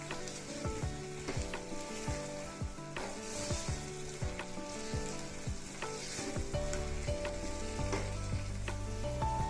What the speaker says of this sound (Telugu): ఈ కోవా వేసిన తర్వాత 1 నిమిషం ఈ విధంగా కలదిప్పుతూ ఉందాము.